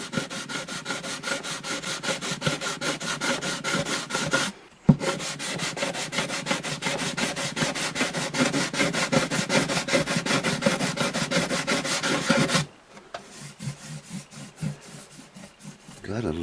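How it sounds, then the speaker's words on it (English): Fine sandpaper rubs steadily over a rosewood guitar bridge on an Alvarez Artist AD65 acoustic, a close, continuous scratchy rasp that halts briefly around the five-second mark, then resumes before fading to quieter, sparser strokes. "I want to go with a finer sandpaper and dress that up a little bit."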